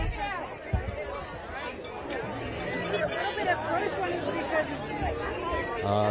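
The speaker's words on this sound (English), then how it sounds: "For those who can't see the crowd, I would say there are a few hundred people here" Protest crowd chatter outside the Capitol in Washington DC, an overlapping babble of many voices from a few hundred people, steady and fairly close, with louder shouts rising now and then.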